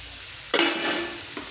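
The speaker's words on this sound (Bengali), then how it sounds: "আলুটা বাইজে তারপরে মাছ দিয়া ভাজি করে নিব।" Potatoes and fish frying in a pan: a sudden burst of sizzling as food meets hot oil, settling into a steady crackle with a small stir at the end, close and alone.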